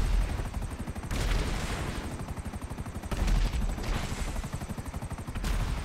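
A helicopter's weapon fires in a video game as a steady rapid rattle of shots under the whir of rotors, with heavier bursts of noise rising at intervals.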